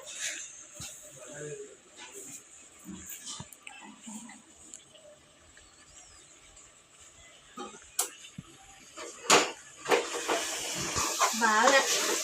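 Mutton cooking in a pan with fenugreek leaves and ginger-garlic paste: soft stirring scrapes and a light sizzle, louder and busier toward the end, with a voice talking over it.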